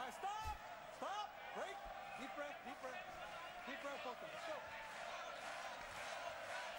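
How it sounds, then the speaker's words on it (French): Boxing arena crowd in Neubrandenburg applauding and cheering loudly during a seventh-round bout, a dense steady roar of claps and shouts with a commentator talking over it. "Les applaudissements redoublent parce qu'évidemment, dans le public ici à Neubrandenburg, on est pour Jürgen Bremer"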